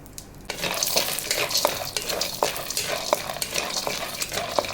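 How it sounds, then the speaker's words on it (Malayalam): Flattened rice roasting in ghee in a pan, with a steady sizzle and repeated scraping, stirring clicks of a spoon against the pan, close and clear without talk. "നമുക്ക് ഇത്തിരി ഒരു നെയ്യോട് ഇട്ട് കൊടുത്തിട്ട് നമുക്കിതിനെ ഒന്ന് റോസ്റ്റ് ചെയ്തെടുക്കാം"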